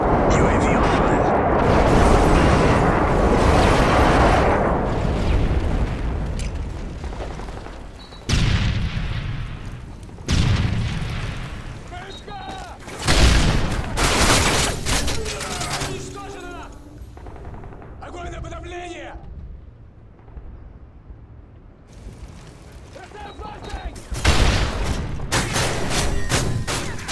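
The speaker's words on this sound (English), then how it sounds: "Airstrike on the way." Airstrike explosions in Modern Warfare 3 multiplayer: a series of heavy booms and blasts arriving in bursts, mixed with rattling gunfire and loud rumbling aftermath, separated by brief quieter gaps, with occasional game voice callouts.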